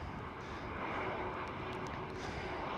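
A KLM Cityhopper Embraer E195-E2 airliner at Amsterdam Schiphol gives a steady, continuous jet roar with a faint whine, holding an even moderate level throughout.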